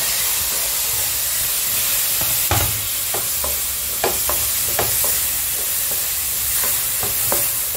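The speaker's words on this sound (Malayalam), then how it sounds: "അടുത്തതായി നമ്മൾ അതിനകത്തേക്ക് ഈ തക്കാളിക്ക് ഇട്ട് കൊടുക്കുക." Chopped tomatoes hit a hot frying pan and sizzle steadily while a utensil stirs them, with sharp scraping clicks recurring over the constant hiss, close up.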